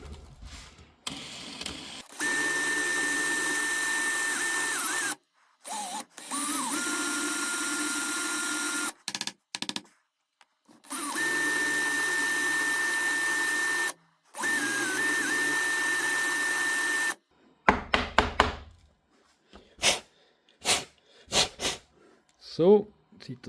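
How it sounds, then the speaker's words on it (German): Power tool grinding the plastic tabs off a DeWalt battery pack, heard as several long steady high-pitched whining passes with brief stops, close and loud, followed by scattered scraping and handling noises. "Schleife die schnell ab."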